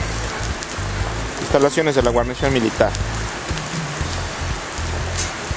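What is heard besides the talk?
heavy rain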